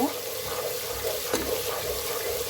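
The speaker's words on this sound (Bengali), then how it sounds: "দেখতে পাচ্ছেন আমি কিছুক্ষণ মশলাটা কষিয়ে নিচ্ছি ভালোভাবে।" Coriander powder masala is sautéed in a pan, giving a steady close hiss and sizzle with faint scraping from stirring.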